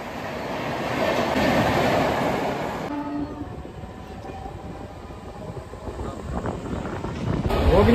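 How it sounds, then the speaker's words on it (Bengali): A local train on the Howrah to Puri line runs just after leaving Panskura Junction, with steady rumble and clattering wheels, a shift in tone partway through, and a swell in loudness toward the end. "আমাদের ট্রেন কিন্তু এই মুহূর্তে ছেড়ে দিল পাঁশকুড়া জংশন রেলওয়ে স্টেশন থেকে।"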